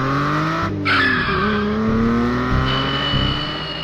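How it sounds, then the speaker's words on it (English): A cartoon car pulls away fast, its engine rising in pitch with a short tire screech near the start, loud and close with no talk over it. "He then got in the car and quickly drove away."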